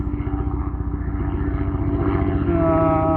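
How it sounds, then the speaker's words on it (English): A steady, droning engine hum with a low rhythmic chop, a medical helicopter passing at moderate distance, its pitch shifting slightly near the end. "That is actually just a medical helicopter"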